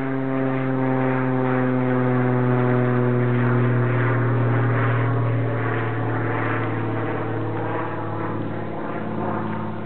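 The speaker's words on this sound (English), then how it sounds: "you hear the plane? Look up, there's a plane." A propeller airplane drones overhead outdoors as a steady, loud, low hum with strong tonal bands that holds for the whole stretch, with no voices over it.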